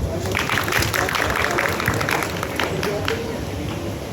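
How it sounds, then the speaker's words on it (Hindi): Steady applause from a group fills the whole clip, dense and even, with no pauses. "तो इन्होंने बिल्कुल अच्छा पॉइंट है, तालियां बजा दें।"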